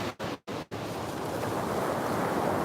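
Loud ocean waves on a morning shore, a steady broad roar of surf that runs continuously after a few brief cut-outs at the very start, with no voices.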